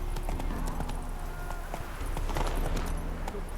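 Roach the horse gallops in The Witcher III, a steady, driving clip-clop of hooves at close range, with occasional faint background noise.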